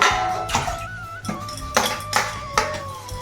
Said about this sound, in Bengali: এখানে বাসন ছিল কিছু, সেগুলো মাজছে